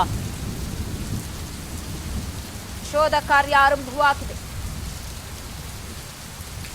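Heavy rain falls in the Belagavi area of Karnataka as a steady, close hiss with a low rumble beneath it, while a voice speaks briefly in the middle.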